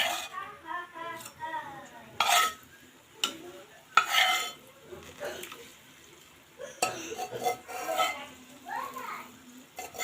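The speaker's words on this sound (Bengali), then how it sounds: "এখন আমি মাছটা দিয়ে দিব।" Rohu fish pieces go into a pot of Bengali fish curry with potato, onion and tomato, giving a few soft clattering plops and stirring scrapes over a light sizzle, heard fairly close amid kitchen clinks.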